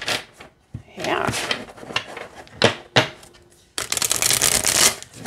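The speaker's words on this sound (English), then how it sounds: "it shuffles great this way too" Tarot cards from a ghost-themed deck with purple edging and quality cardstock being shuffled by hand, with several quick riffles and bursts of papery flutter close to the microphone.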